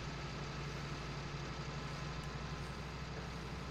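A tractor engine climbs a hill in Farming Simulator 19, holding a continuous low, throaty drone at steady load with no breaks or talk.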